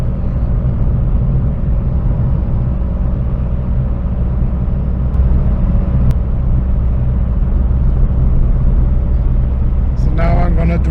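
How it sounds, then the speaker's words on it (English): A turbocharged Saab cruises gently on base boost, a steady low engine rumble and road drone heard from inside the cabin, even and unchanging, with a brief rattle near the end. "So now I'm gonna drive really easy on the throttle and just let the turbo cool down before we get home"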